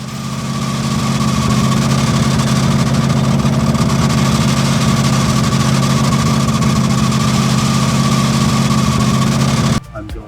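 A car engine idles with a chattering timing chain, a loud, steady close-up rattle and hum that runs unbroken for nearly ten seconds before dropping away abruptly at the end.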